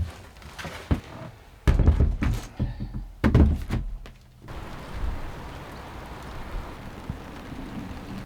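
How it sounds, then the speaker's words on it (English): Rain falls steadily outside a woodworking shop as a soft, even hiss. A few thumps and knocks sit over it early on, and the rain continues alone afterward. "it's just started to rain out there"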